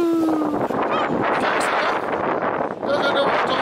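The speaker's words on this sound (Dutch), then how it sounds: "Ja, door de sterke wind, hè." Strong wind buffeting the microphone outdoors in a steady roaring rush, with faint voices and a brief high whistle-like tone partly lost in the noise.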